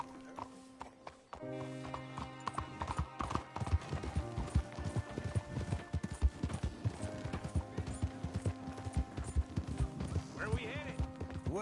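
Horse hooves clip-clopping in the Red Dead Redemption 2 video game, a rhythmic run of hoofbeats under a musical score and spoken dialogue, with a brief whinny near the end.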